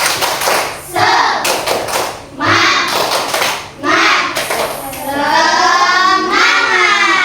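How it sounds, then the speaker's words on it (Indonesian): Primary school class doing the rhythmic tepuk semangat spirit clap, children clapping loudly in bursts separated by short pauses, then a final sustained round of clapping and cheering, with a teacher's voice between rounds. "Kita tepuk semangat dulu ya. Tepuk semangat."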